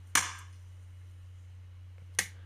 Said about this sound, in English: Those are the claps we used to use for synchronizing manually